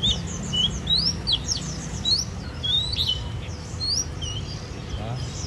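A caged songbird at a bird breeder's sings loudly in rapid bright chirps and trills, repeated throughout over a steady low background hum.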